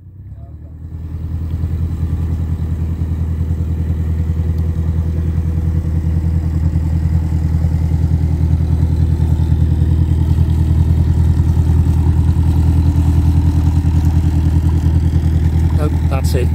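A boat's engine runs steadily at low revs while manoeuvring to moor, a loud continuous droning rumble that builds in the first second and holds through the clip, with no speech over it.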